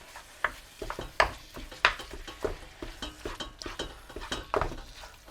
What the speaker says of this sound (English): it's browning off really nice, but keep mixing it through